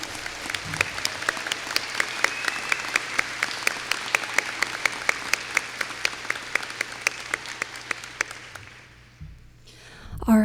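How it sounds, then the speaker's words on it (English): Sustained applause from a large crowd at a high school graduation, steady and dense clapping for several seconds before it tapers off into quiet. "A round of applause."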